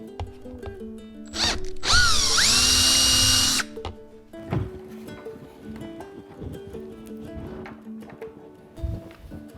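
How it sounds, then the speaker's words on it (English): A power drill bores a hole through Italian motorcycle plastic while a dashcam is being installed, a loud high whining burst lasting about two seconds, then quieter handling clicks and knocks. "to drill a hole in a piece of Italian plastic"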